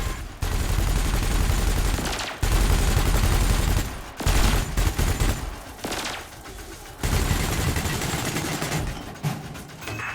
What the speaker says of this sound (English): Meanwhile, your laser will fire until the capacitor is depleted, at which point it will need to recharge.